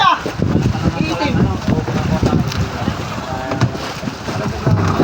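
Strong wind buffets the microphone in a steady low roar, with people talking loudly over it and occasional knocks in the background.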